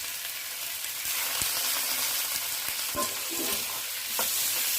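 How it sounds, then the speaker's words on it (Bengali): Chopped capsicum and tomato stir-fry in a pan, a steady hiss of sizzling oil broken by scraping stirs and utensil knocks, close and fairly loud, with no talking. "ক্যাপসিকামটা একটু নাড়াচাড়া করে একটু নরম হয়ে এলে"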